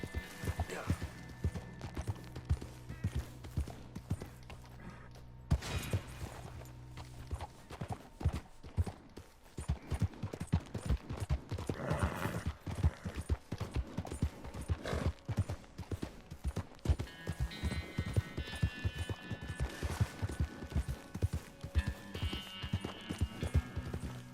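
Horse hooves clip-clop at a steady, fairly close gait in Red Dead Redemption 2, the rhythm shifting and speeding at times, with a voice talking now and then over the game audio.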